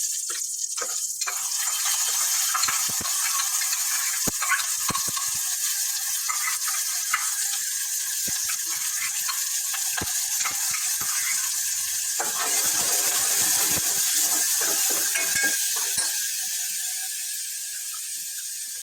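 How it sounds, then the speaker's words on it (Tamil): Ground thuthuvalai leaves sauté in a pan with asafoetida and curry leaves, giving a steady hissing sizzle. Occasional small clicks and ticks from the pan cut through, and there is no talk. "இது பச்சை வாடை போற அளவுக்கு நம்ம வதக்கி எடுத்துக்கலாம்"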